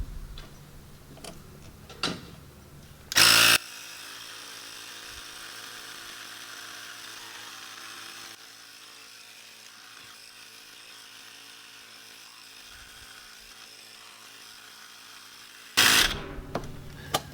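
A loud portable air compressor inflates a plugged lawn mower tire, giving a steady droning hiss that runs for many seconds, with sharp bursts at the start and end and a few clicks before it, no talk.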